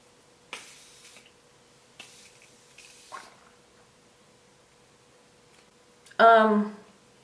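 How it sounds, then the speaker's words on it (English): Three short hissing bursts from a mattifying makeup setting spray, spaced apart, then a louder, longer spray near the end, with quiet pauses between. "Let's see how the mattifying spray works."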